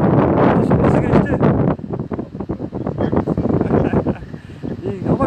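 Strong wind buffets the microphone on a street in Karamürsel, Turkey, roaring and gusting without pause. People talk underneath the noise.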